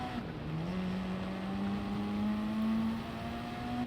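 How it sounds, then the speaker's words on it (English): A Mitsubishi Evo rally car in the game Gran Turismo Sport slides on gravel with a steady engine drone that shifts pitch slightly as it revs, fairly loud, with no talk. "we can still slide and Mitsubishi Evo rally car around on the gravel."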